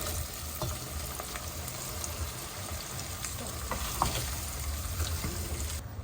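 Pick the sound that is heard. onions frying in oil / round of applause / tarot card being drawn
onions frying in oil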